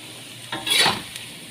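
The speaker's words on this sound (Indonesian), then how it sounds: "Tempenya digoreng setengah matang ya." Tempeh frying half-cooked in hot oil in a pan, a soft steady hiss rising briefly into a louder sizzle and stir, then settling back.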